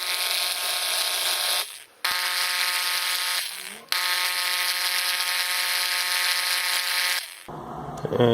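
A power drill whines steadily while boring shallow alignment pin holes into a wooden casting pattern, running in three long close bursts separated by short pauses, then stopping with some handling noise.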